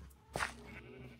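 A single short sheep bleat from a farm in a video game, faint and brief, heard alone without talk.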